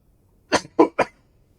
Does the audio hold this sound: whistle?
no